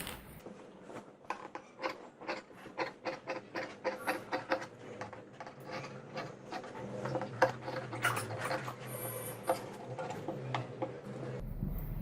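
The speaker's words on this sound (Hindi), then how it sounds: "अब मैं इसकी कटिंग करूंगी।" Scissors snipping fabric around a boat neckline on a sewn garment, a quiet, steady run of small clicks and rasps close by, with no talking.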